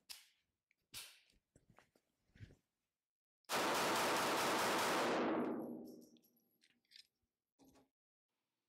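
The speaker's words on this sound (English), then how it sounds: "And last but not least, we'll shoot the Springfield 911." A Springfield 911 .380 ACP pistol fires at 5280 Armory: one loud, sharp blast rings out with a long fading tail, surrounded by fainter scattered clicks and knocks.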